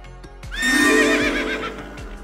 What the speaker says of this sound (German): Ben und ich gehen schon mal schnell nach den Pferden schauen.